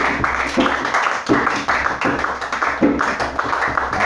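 A church congregation claps together in praise, a close, fairly loud run of rhythmic hand claps with a steady pulse and no speech over it.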